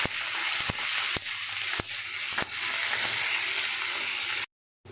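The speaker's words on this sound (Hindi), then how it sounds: "तो इसमें अब मैं डाल रही हूँ ये लहसुन की कलियाँ हैं और अदरक है।" Garlic cloves and chopped ginger frying in a pan make a loud, close, continuous sizzle, broken by a few sharp clicks of a utensil against the pan, with no talking; the sound cuts off abruptly near the end.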